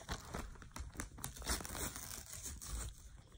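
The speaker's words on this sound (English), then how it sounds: "It's in the envelope, so I need to peel this." Paper envelope being peeled open by hand, a run of close crinkling and tearing rustles with short bursts of crackle, no talking over it.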